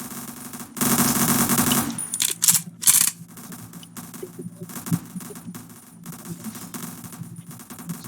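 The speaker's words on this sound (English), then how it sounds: "What are you shooting at?" Gunfire in a multiplayer shooter video game, a loud rapid burst followed by scattered sharp shots and clicks over a steady background hum.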